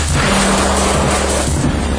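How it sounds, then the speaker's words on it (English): Ford Focus ST with a 2.5-litre turbocharged Volvo engine accelerating, a loud, close, deep roar that holds steady and then eases slightly, with no talk. "Any gear, any revs, any prod on the throttle, and you get a deep bellow and a very, very satisfying surge."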